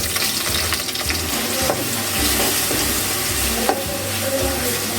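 Ground pirandai paste sizzles and fries in oil while being stirred in a pan, making a steady, close crackle with occasional scraping sounds.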